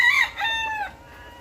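A single rooster crow, loud and close, its drawn-out call rising then trailing off in under a second.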